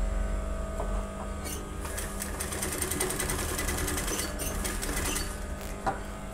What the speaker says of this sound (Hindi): इस जिप के पास में ही हमें सिलाई लगानी है।